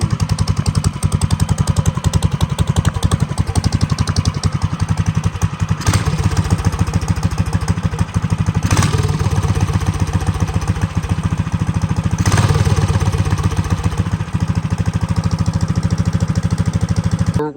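A Baja Warrior mini bike fitted with a big block engine runs loud and close, a rough, rapid, steady chugging with a few brief revs standing out, with no talk over it.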